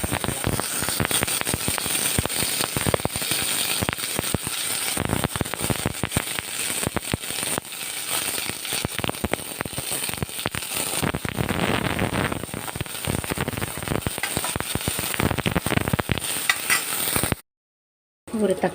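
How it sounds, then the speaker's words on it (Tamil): Dense, rapid crackling and popping of mustard seeds spluttering in hot oil, continuous and fairly loud, with sharp spits scattered throughout and a brief silence near the end. "கடுகு நல்லா வெடிச்சிருச்சு"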